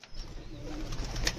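A pigeon coos softly in a low, throaty murmur under faint outdoor background noise.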